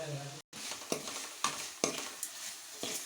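Chopped coriander being stirred into a prawn mixture in a pan, giving soft scraping strokes over a steady frying sizzle, with a few spaced stirring clatters at close range.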